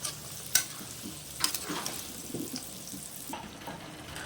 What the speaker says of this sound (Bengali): এবার মশলাটাকে ভালো করে আমি কষাতে থাকবো